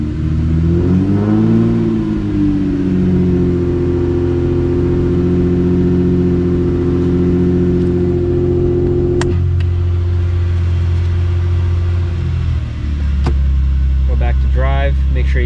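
A 1994–2003 Toyota Camry engine revs steadily while in reverse with the front wheels spinning, a loud sustained mid-pitched drone that climbs briefly at the start and drops to a lower hum near the end, with someone talking over it.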